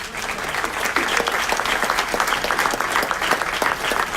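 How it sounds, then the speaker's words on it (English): A crowd at a city council meeting applauds for a ward's neighborhood groups, with continuous, even clapping filling the room throughout. "Another round of applause for Ward."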